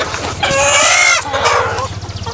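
Sonali country chickens on a poultry farm of about 200 birds cluck and squawk loudly and close by, with one drawn-out crowing call in the middle.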